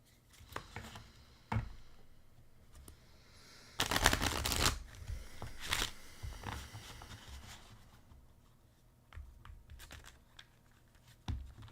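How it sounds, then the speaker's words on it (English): Oracle cards being shuffled by hand during a reading, a quiet run of soft riffling, tapping and papery slaps in irregular bursts, close up with one louder flurry in the middle. "I'll do another shuffle."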